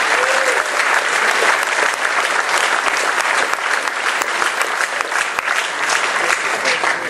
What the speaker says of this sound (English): So I want you all to give yourselves one more round of applause for being here.